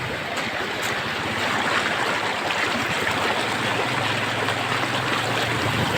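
A river stream near Dharan flows in a steady, loud broadband rush of water that holds constant throughout, with no voices over it.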